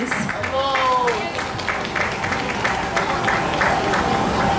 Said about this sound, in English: A big round of applause for our esteemed devotees.